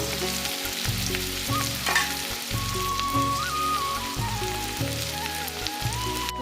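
Onions sizzling and crackling in hot oil, a steady frying hiss with a repeating low mechanical hum beneath and no talking.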